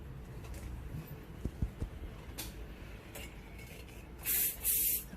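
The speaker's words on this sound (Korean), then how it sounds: "스프레이를 뿌리고" Hairspray hisses from an aerosol can onto an updo in two short, loud bursts near the end, after faint ticking and clicking from pins and handling.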